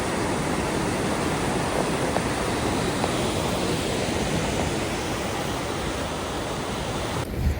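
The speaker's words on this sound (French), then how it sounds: "on entend déjà un cours d'eau" A stream flows in Iceland on a walk toward waterfalls, heard as a steady broadband rush of running water that holds even and loud from start to finish with no voices.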